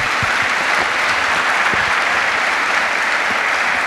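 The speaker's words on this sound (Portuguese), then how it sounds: "uma salva de palmas" Audience at a personal finance seminar clapping, a dense, steady round of applause from a roomful of people lasting a few seconds, with no talking over it.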